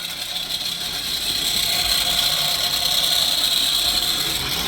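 An MTZ-82 tractor engine idles while warming up, a steady, loud mechanical drone with a constant hum and no pauses, close by and alone.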